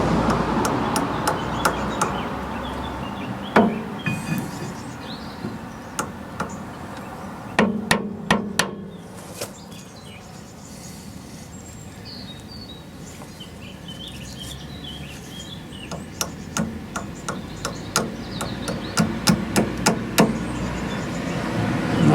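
Hammer taps on a stuck front suspension part of an MGA 1600 during restoration, sharp metallic strikes that come in quick bursts, then pause, then return as a steady series of taps, with faint birdsong in the background.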